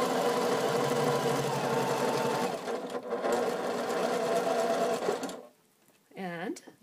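A sewing machine stitches a quarter-inch seam on a fabric triangle, a fast loud mechanical chatter that runs for about five seconds before stopping, followed by a short voice.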